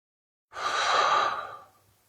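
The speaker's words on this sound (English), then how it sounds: "So take a breath." A single deep breath taken slowly and clearly, close and alone, swelling over about a second and then fading out into quiet.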